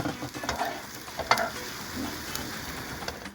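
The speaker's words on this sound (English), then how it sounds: "I'm going to throw in some pine nuts right now, just to get them all heated up and toasty" Pine nuts toast in a hot pan, giving a soft steady sizzle with light scraping and stirring taps, including one sharper clatter, heard close and fairly quiet.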